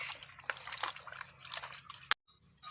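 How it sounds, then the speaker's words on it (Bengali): Jiol fish being rubbed and washed in water by hand, giving faint, close wet sloshing and dripping with soft splashes and a sharp click before a brief pause. "তা জিয়াল মাছটা আমি আগে ভালো করে কুলের উপরে ডলি ধুয়ে নিচ্ছি।"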